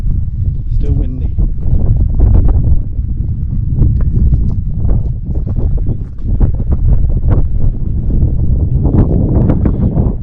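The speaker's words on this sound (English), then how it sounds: "Still windy." Strong wind buffets the microphone with a constant low roar on the Pennine Way between Hawes and Keld, while a person speaks over it throughout.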